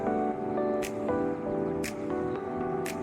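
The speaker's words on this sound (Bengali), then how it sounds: "পেস্টটা দিয়ে আমি এখন ভালোভাবে নাড়াচাড়া করে নিচ্ছি।" Mustard paste is stirred into a pointed gourd curry in a pan, giving soft wet squishing and scraping sounds with a few sharp ticks, close and continuous without talk.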